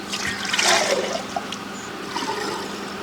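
Water runs and splashes steadily from a tap nearby, a continuous gurgling trickle with no talking.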